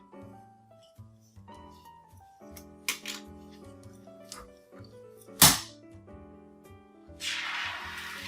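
A champagne cork pops out of the bottle as one sharp, loud bang over soft background music, followed by a brief fizzing hiss.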